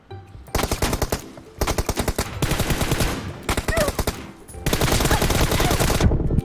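Vintorez rifle fire in PUBG Mobile, heard as several loud, close bursts of rapid shots separated by short pauses, with the last burst running longer.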